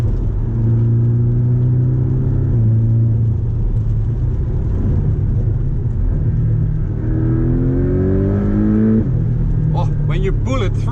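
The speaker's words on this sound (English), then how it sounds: "You pull it through all the way to the red line, then you suddenly notice how powerful this car is." A Porsche 718 Cayman GTS engine revs hard and climbs steadily in pitch, drops back, then surges up to the redline again, loud and close.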